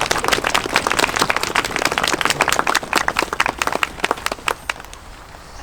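A crowd applauds at an outdoor candlelit Christmas remembrance in a cemetery, a dense run of hand claps that thins and fades toward the end.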